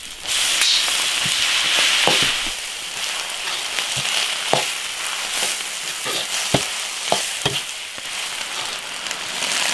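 Cured pork stir-fries in an iron wok with scallion, ginger and dried chilies: a steady close sizzle broken by sharp, irregular clanks and scrapes of the spatula against the metal.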